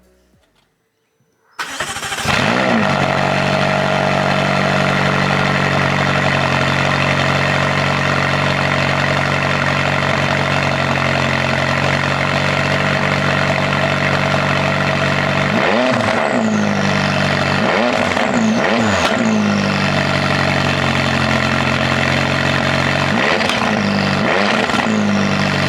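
A McLaren 570GT engine cranks and fires after a moment of quiet, then settles into a loud, steady idle close by, with a few sharp revs blipping up and back down later on.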